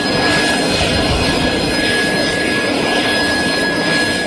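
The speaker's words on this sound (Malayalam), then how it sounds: "ബ്രിട്ടന്റെ സൈനിക വിമാനമായ അറ്റ്ലസ് ZF-417 തിരുവനന്തപുരം അന്താരാഷ്ട്ര വിമാനത്താവളത്തിൽ ലാൻഡ് ചെയ്തത്" A British military Atlas ZF-417 transport aircraft landing at Thiruvananthapuram International Airport produces a loud, continuous engine roar with a steady high whine and no voices.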